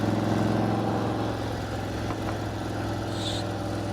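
A motorcycle engine runs steadily between gears on a road, a loud continuous droning hum with a stable pitch and no clear revving or shift.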